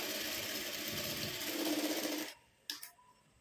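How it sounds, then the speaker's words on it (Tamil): A sewing machine runs a straight stitch along a folded blouse edge, a steady close whirring that stops abruptly, followed by a brief click. "இந்த மாதிரி ஸ்ட்ரைட்டாக ஒரு ஸ்டிச் பண்ணிக்கலாம்"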